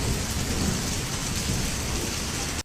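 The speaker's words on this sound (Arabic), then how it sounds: "المطر بينزل هنا في حتة صغيرة جدا، وعلى بعد خطوة مفيش ولا نقطة مية" Steady, dense rain pours down in one small patch, a continuous close hiss of drops striking the ground that ends abruptly at the close.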